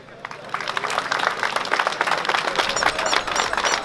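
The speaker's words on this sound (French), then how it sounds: "je vous demande de l'applaudir très fort" A crowd at a wine auction event for the Hospices de Nuits applauds in a steady, moderately loud wave of clapping that builds slightly and carries on, with a few scattered voices.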